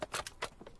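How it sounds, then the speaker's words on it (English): Sniper rifle reload in a video game, a quick sequence of four or five light metallic clicks and clacks, close and crisp, with no voices. "let me reload"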